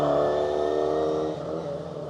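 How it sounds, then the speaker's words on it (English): Historic rally cars on a special stage, a works Rover Mini Cooper overtaking a Talbot Samba, an engine droning and revving nearby at steady pitch before easing off, heard alone. "The Works Rover Mini Cooper there overtaking the Talbot Samper"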